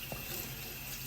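Water runs steadily from a kitchen tap into a sink while cooked macaroni noodles are rinsed, a soft continuous splashing stream with no voices.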